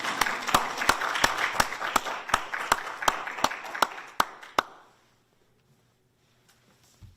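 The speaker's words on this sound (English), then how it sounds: "So I think that deserves a round of applause." Audience clapping together at a health system brand announcement, a dense burst of applause that holds steady for about four and a half seconds before cutting off into near silence.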